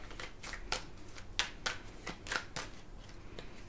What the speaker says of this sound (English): Okay, I'm going to stop shuffling there.